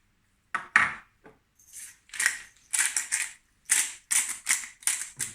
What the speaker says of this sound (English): Put the black pepper on here.